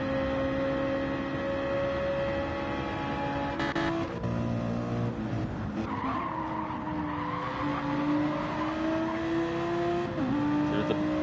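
A 2011 BMW race car at Monza in a racing video game drones steadily at high revs, its engine note shifting through gear changes, with other cars' engines and tire noise blended in.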